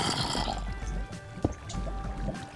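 Water in the Minecraft video game trickles and pours steadily, a close liquid wash with a few drip-like ticks and a brief sharp knock partway through, no voices over it.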